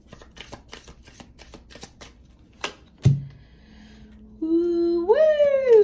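Playing cards shuffled in quick riffling bursts, a run of sharp snapping flutters close by, followed by a short thump and then a sustained whine of background noise.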